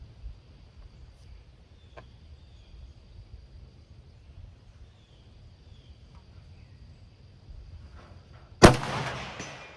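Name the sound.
Romanian PSL 7.62 mm sniper rifle gunshots from the bench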